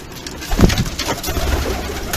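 Shortface pigeons coo in a coop, several soft throaty calls close by and overlapping across the short stretch.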